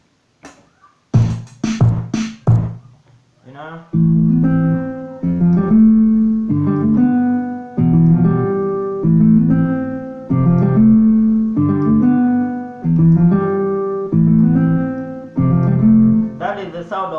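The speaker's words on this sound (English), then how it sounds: "That is the sound of the guitar." Keyboard played with a guitar-like voice in an Afrobeat style, repeating a bright plucked riff in steady rhythmic phrases after a few sharp opening hits and a brief spoken word.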